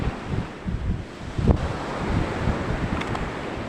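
Wind buffets the microphone over rough sea waves on open water, with gusty rumbling and a few sharp bumps, moderately loud and without speech.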